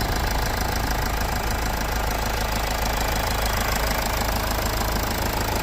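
A 2016 Toyota Etios GD diesel engine idling with a steady, dense clattering rumble, close and continuous, with no voices.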